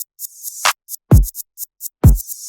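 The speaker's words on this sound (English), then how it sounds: "So these are trap style hip hop drums." Trap-style hip hop drums from a song play a sparse pattern: crisp ticking hi-hats with two deep booming 808 kick hits and a snare, loud and up front with no voices.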